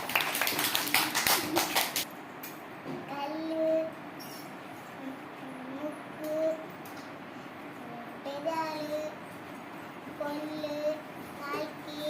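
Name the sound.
children clapping for Nithin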